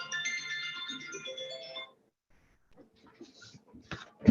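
A phone ringtone plays in a county commission meeting room, a bright melodic trill for about two seconds before it cuts off, leaving faint scattered room noises and clicks.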